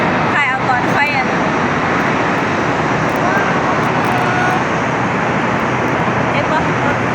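An airplane takes off at a large airport, a steady, loud broadband engine roar that fills the whole stretch, with voices chattering over it near the start.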